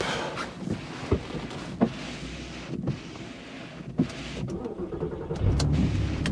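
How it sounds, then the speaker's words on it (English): Faint clicks and thumps lead up to an Audi TT V6 engine cranking and catching near the end in snowy conditions, settling into a low idle rumble. "So let's start the car up."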